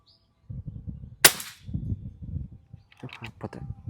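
A single sharp, loud crack from a Daystate PCP air rifle with a 500 cc bottle, a brief bright burst, set against low background rumble and some handling noise.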